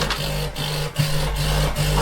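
A DeLonghi Magnifica Plus espresso machine heating up gives a loud mechanical hum, pulsing in an even rhythm about every half second, close by with no voices.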